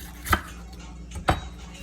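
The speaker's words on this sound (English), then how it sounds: "So now that we have the insides removed, we're going to cut this in half." A knife cuts a bell pepper on a board in two sharp, separate thunks about a second apart, close and fairly quiet.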